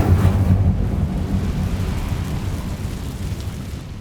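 The Incendio fire spell in Hogwarts Legacy is cast as a loud, deep rushing roar of flame that swells at once and then holds as a steady rumbling whoosh.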